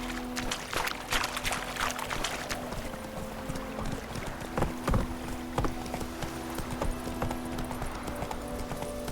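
Roach the horse galloping in The Witcher 3, a steady close clip-clop of hooves running on without pause over a low ambient bed.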